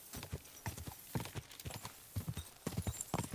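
Horse hooves clip-clop in a steady walking rhythm in Kingdom Come Deliverance 2, close and clear, with a faint whinny in the mix.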